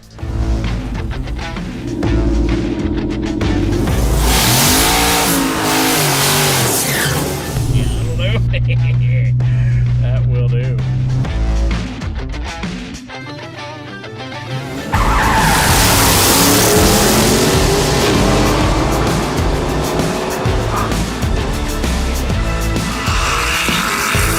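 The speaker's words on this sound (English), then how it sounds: "This is the Helljet, a twin-turbo supercharged Dodge Charger I built to compete in 2021 Roadkill Nights" A twin-turbo supercharged Dodge Charger and an off-road Corvette drag race, loud engines roaring and shifting with tire squeal, sustained and close throughout, with a brief lull mid-run before a harder burst of acceleration.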